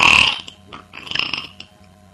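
A loud, deep, gurgling burp opens the clip. A few rougher, throaty croaks follow at close range.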